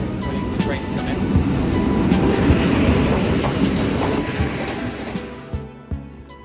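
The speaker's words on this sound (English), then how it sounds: "Waiting for the train to come in." A train pulls into a station at a border crossing, a broad rumbling roar with rail clatter that swells, then fades and drops away near the end.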